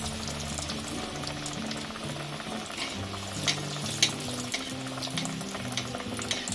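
A paneer cutlet fries in hot oil in a kadai over lowered heat, a steady bubbling sizzle close by with a few faint clicks and crackles, and no one talking.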